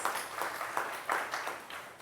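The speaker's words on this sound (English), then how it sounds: "I love a round of applause." An elementary school audience claps through a Terrific Kid award ceremony, soft and steady applause with scattered louder claps, heard from a distance.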